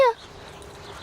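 A dog gives a short, high whimper right at the start, then falls quiet over faint background noise.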